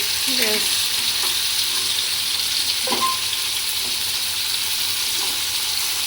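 A whole one-kilogram stuffed pomfret sizzles steadily in hot oil after being turned over, a dense continuous frying hiss with a few soft scrapes and clinks of a spoon, close and alone without talk.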